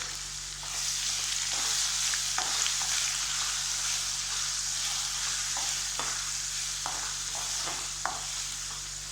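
Cumin and spices frying in oil for beef varattu while being stirred, a constant bright sizzle overlaid with intermittent scraping strokes of a spoon against the pan, close and steady throughout, no speech.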